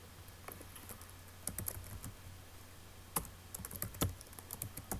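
Login details being typed on a computer keyboard: soft, irregular key clicks in short bursts with pauses between, faint over a low steady hum.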